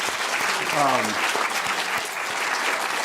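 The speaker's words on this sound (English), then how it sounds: "Applause is appropriate." Audience applause at a public academic talk at Yale, a steady wash of clapping filling the room for several seconds, with a brief voice rising over it early on.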